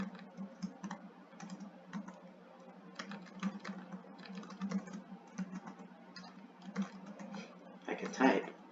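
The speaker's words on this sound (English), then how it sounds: "let's just type it out." Typing on a computer keyboard during a Virtual Machine Manager 2019 install, bursts of quick key clatter with pauses and a denser flurry near the end, with faint talk underneath.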